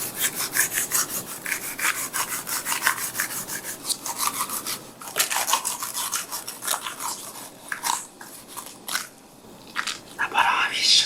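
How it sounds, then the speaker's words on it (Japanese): Wet, sticky scraping as slimy mucus is worked off a huge humphead wrasse (Napoleon fish) over 60 kg during scaling, a close, continuous run of rasping squelches in irregular bursts. "ナポレオンフィッシュの粘液のぐちょぐちょ音です。"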